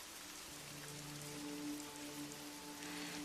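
Gentle, fine rain falls steadily on a surface, a soft continuous hiss with scattered faint drops, quiet and even throughout, with no voices.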